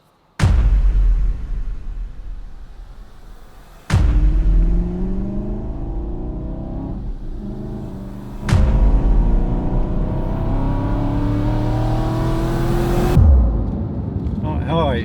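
An Aston Martin out on a pre-service road test, its engine loud and close as it pulls away with rising revs through three gear changes, marked by sharp breaks, then settling into a steady drone.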